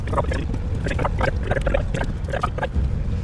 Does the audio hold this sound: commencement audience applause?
no